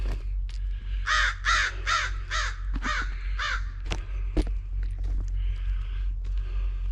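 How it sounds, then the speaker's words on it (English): Crows caw repeatedly in a lively group nearby, in loud harsh bursts close together, with a few scattered clicks between them and no talk. "You're chasing crows now."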